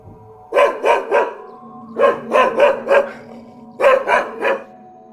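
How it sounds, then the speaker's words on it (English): Dog barking in three quick bursts of about three barks each, separated by short pauses, loud and close with no talk. "why a dog barks for no reason?"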